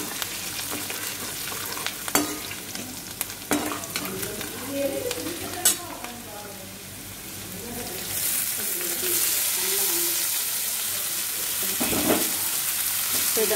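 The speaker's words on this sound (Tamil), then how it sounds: "வெங்காயத்தையும் சேர்த்து இதோட வதக்கிக்கலாம் நல்லா." Onions sauté in a pan of hot oil tempering for leftover-rice kuzhi paniyaram, with a steady frying hiss and scattered spoon scrapes that swell into a louder, denser sizzle in the second half.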